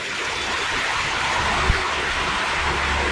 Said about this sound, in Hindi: ये देखिए झरना टाइप में गिराया गया है।